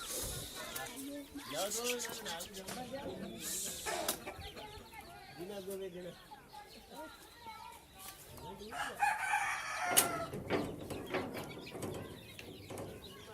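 Chickens cluck steadily and a rooster crows at a poultry farm, fairly faint and mixed with background chatter and other farmyard noise.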